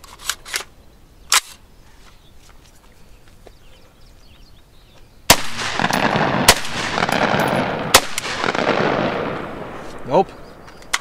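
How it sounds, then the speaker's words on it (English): Several sharp, loud reports from an ATI Omni Hybrid AR pistol ring out irregularly, interspersed with metallic clatter and handling noise, a voice faintly heard between them. "See if I can get the last remaining bullets to fire through this thing."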